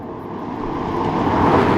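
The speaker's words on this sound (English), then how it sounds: "The V12 engine though is superb" Aston Martin DB9 V12 engine under way, a smooth, steady low drone with road rumble that swells slightly louder toward the end.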